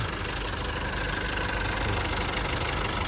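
The 2.5-litre turbo diesel engine of a 2024 Nissan Navara pickup truck idles steadily nearby, a constant low rumble with a faint knocking rhythm and no voices.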